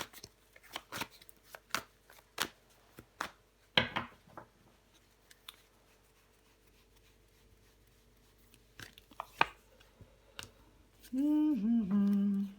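Tarot cards handled and turned over on a table, a scatter of soft close taps, flicks and shuffling snaps spread through a quiet room, ending with a short tonal hum.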